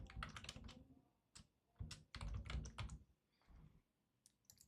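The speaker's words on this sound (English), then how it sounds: "first thing I'm going to do is come up to the search bar and go ahead and type in Florence" Fingers type on a computer keyboard in quick, irregular bursts of clicks, close and clear with short pauses between words, no one speaking.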